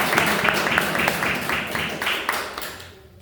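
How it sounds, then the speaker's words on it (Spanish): A church congregation claps loudly and close, with hands striking together in a rhythmic, pulsing unison beat over a dense background of clapping that drops off abruptly at the very end. "Brinde un aplauso al Señor de la vida"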